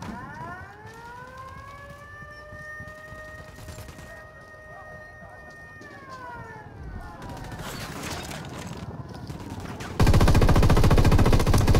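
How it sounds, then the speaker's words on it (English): Gunfire erupts in Ghost Recon Wildlands, a loud sustained burst of shots near the end following a wailing siren-like tone and rumbling background action, with little speech. "Opening fire."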